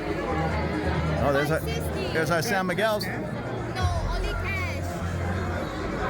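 A packed Bangkok venue buzzes with crowd chatter, a constant babble of many overlapping voices and background hubbub, with a nearby person speaking over it.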